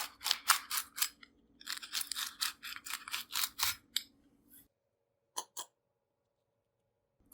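A crispy low carb tortilla pizza being cut, a rapid series of loud, sharp crunches in two bursts, then a pause and two final crisp snaps, with no talking.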